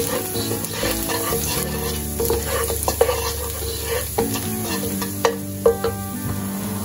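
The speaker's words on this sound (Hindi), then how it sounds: "तो यहाँ हम कढ़ाई में लेंगे 2 टेबलस्पून ऑयल, इसमें डालेंगे 1 टीस्पून चॉप लहसुन," Chopped garlic sizzles steadily in hot oil in a kadai, with a spoon stirring and scraping against the pan in occasional clicks and taps.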